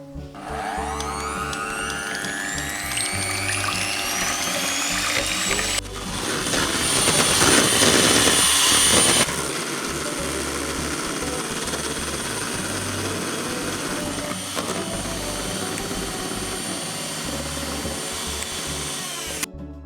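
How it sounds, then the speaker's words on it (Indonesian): An electric mixer beats egg whites to stiff peaks for a layered lapis legit cake, a loud continuous whine that rises in pitch and swells in the middle before settling to a steady drone. "kocok putih telur hingga kaku"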